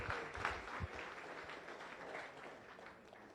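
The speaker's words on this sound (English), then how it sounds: "Could you join me for a round of applause for all of our visiting Rotarians, guests, and the head table." Faint, distant applause from a room of people at a Rotary Club luncheon meeting, a soft continuous patter of clapping that gradually thins out.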